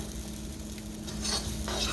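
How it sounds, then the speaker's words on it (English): Chicken curry ingredients sizzle and crackle steadily in hot oil while a utensil scrapes and stirs through them, close and continuous. "You just keep stirring and frying it in the oil, and just infuse everything together."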